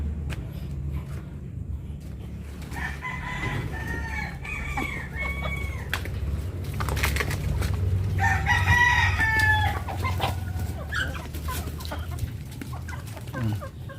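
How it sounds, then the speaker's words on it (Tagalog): Chickens on a small farm cluck in short, scattered bursts over a steady low rumble, with a rooster-like crow rising around the middle of the clip. "Ayan yung mga manok."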